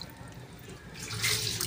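Water runs from a tap, rinsing mud off a threaded pipe fitting, a short splashing wash that grows louder and brighter toward the end.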